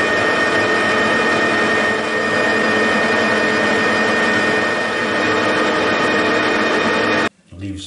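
A lathe turns homemade steel dumbbells with a loud, steady machining roar and a high whine that run almost without a break for about seven seconds, then cut off sharply at the end.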